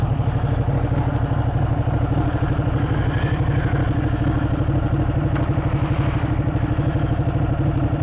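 A Ducati 899 Panigale sport bike's engine runs nearby, a loud, steady, throbbing idle with mechanical clatter that holds unbroken for the full stretch.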